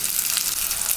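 Ginger and onion sauté in hot oil in a pan for Kerala-style raw mango chutney, giving a steady, close, even sizzle that fills the whole second with no pauses.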